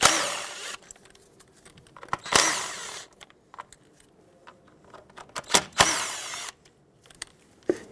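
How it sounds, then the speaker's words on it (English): A power tool whirs in several short bursts as 10mm bolts come off the ignition coils of a 3.6L Dodge Grand Caravan, with clinks and rattles of metal between the bursts. "10mm bolts hold these on. Remove all the bolts and then pull the ignition coils straight out."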